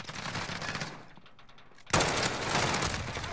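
A Grau 5.56 assault rifle in Modern Warfare fires sustained automatic bursts, quieter at first, then after a brief lull a loud, dense stream of close gunfire. No one speaks.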